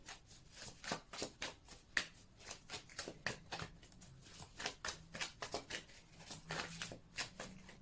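A deck of tarot cards is shuffled repeatedly, producing a steady run of crisp riffling bursts, close and clear with no talking.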